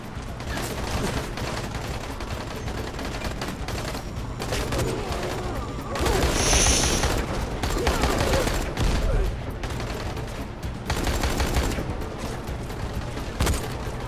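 Dense, continuous gunfire crackles through a Dying Light game scene, with bursts swelling louder around the middle and a steady layered background of shots throughout.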